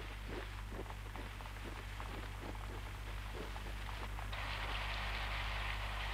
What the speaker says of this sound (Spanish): Ya ha empezado a llover.